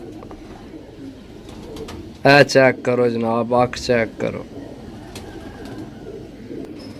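Pigeons cooing on a rooftop loft, a burst of soft repeated coos in the middle, partly under someone speaking nearby.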